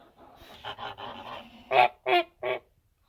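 A sitting goose on its nest gives a run of soft, nasal calls, then three loud, close honks in a quick series before going quiet.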